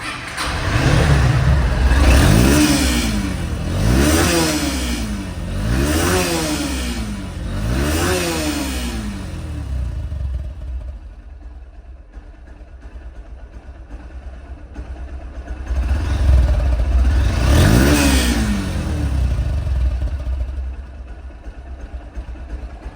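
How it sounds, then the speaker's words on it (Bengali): A second-hand 2022/23 Honda X Blade motorcycle with about 2,700 km on it revs loudly and up close. Four quick rising-and-falling throttle blips give way to a quieter idle, then one more strong rev follows. "এই বাইকটির সাউন্ডটা অন্তত ইঞ্জিনের সাউন্ডটা অন্তত আপনারা"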